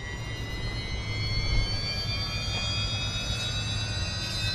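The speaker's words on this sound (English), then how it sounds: "That's a turbine." A turbine engine spools up steadily on a Losi Promoto MX radio-controlled model bike, its high whine rising and holding over a low rumble, close and continuous.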